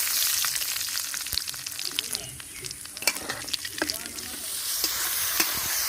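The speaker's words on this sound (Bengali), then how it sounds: "তেল দিয়ে দিচ্ছি ফোড়ন দিয়ে দিচ্ছি দুটো শুকনো লঙ্কা দুটো তেজপাতা" Whole spices, two dried red chillies and two bay leaves are dropped into hot oil for frying chicken, and they crackle and sizzle up close with a dense hiss and quick pops throughout.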